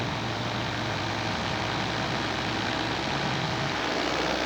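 A four-stroke paramotor engine drones steadily in flight, a constant close-up buzz with a low throbbing tone and broadband wind noise, running evenly with no change in pitch and no talk.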